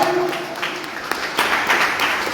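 A church congregation claps to glorify God during a sermon, with brisk clapping mixed with a talking voice.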